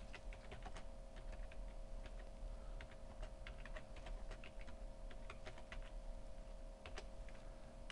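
Typing on a computer keyboard, including presses of the Tab and Enter keys, quiet irregular clicks in short bursts over a low steady hum.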